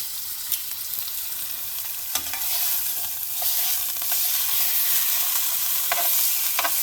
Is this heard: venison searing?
yes